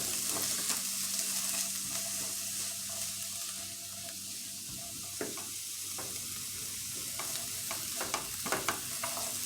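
Garlic and onions frying over medium heat in a pan, a loud steady sizzle with scattered spoon scrapes and taps as they are stirred, close and alone.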